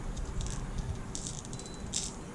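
A lipless crankbait fishing lure rattles in short, loud bursts, its internal beads clattering in several quick shakes against a low background hum.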